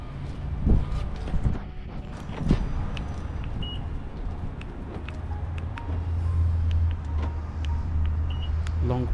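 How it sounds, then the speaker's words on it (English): A 2017 Honda Pilot is started by remote from outside the vehicle, with a few clicks and beeps followed by the engine catching into a steady low idle hum that builds over the second half. "that's the remote start, so it's going to start the car"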